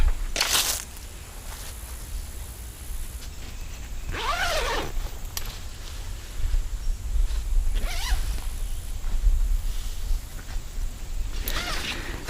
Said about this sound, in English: the zippers and everything on these tents are extremely well made